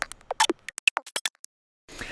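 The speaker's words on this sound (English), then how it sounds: "In the end, you get an audio file that sounds like this." A rendered audio file of clicks made from hi-hat samples, a quick scattered run of dry ticks and snaps, quiet and alone, then a pause and a soft noisy wash.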